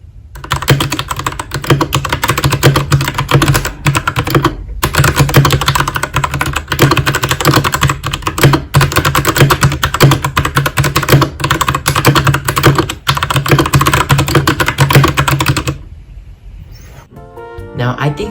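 Typing on a Royal Kludge RK61, a 60% wireless mechanical keyboard, with dense, steady keystrokes running continuously and close up, broken by a couple of brief pauses, before the clatter stops near the end and a voice starts speaking.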